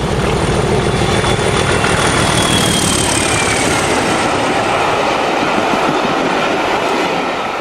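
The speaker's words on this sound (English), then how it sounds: "97-304 and 303 again apply the power at Welshpool while heading for Bristol." Pair of Class 97 diesel locomotives, 97-304 and 97-303, opening up at Welshpool with a loud, steady engine roar and wheel clatter close by, no voices.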